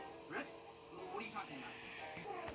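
A dog gives several short, high whimpers and yips in quick irregular bursts, faint and close, with a little background noise.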